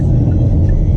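From inside a moving car, a loud, constant low engine rumble fills the cabin for about a second.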